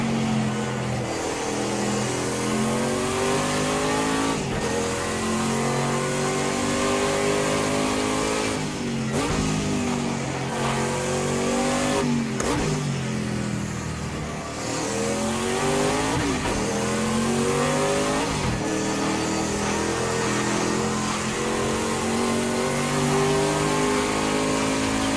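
Prototype race cars in Project CARS 2 roaring along the straight, a continuous loud engine drone climbing through the gears with brief dips at each shift and occasional tire squeal.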